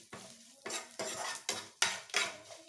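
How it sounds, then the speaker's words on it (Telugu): Poppy seeds and sesame seeds roast in ghee, with about six close, rhythmic bursts of spatula scraping and rattling against the pan, each followed by a brief crackling sizzle. "గసగసాలు నువ్వులు కొంచెం చిట్పట్లాడేంత వేయించుకుంటాం"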